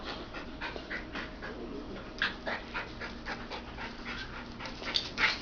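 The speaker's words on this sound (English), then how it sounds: "starting to play, be regular puppies" Puppies pant quickly and steadily at close range, with small whimpers and soft scuffling as they play, and no voices.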